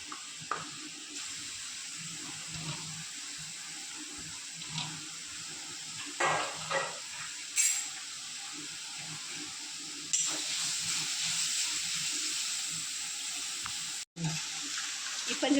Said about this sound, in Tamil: கொஞ்சம் வதக்கிட்டு கொஞ்சம் தண்ணி ஊற்றி வேக வைக்கணும்.